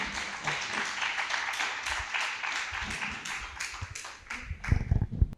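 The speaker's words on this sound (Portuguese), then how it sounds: "quem puder fazer uma salva de palmas também para o Marx" Applause from an audience at a panel event about slave labor in coffee production: a sustained patter of clapping that fades slightly, then a few louder, closer claps near the end.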